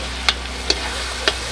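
Tomatoes and onions frying in a pan give a steady close sizzle, with three sharp utensil clicks against the pan spaced through it.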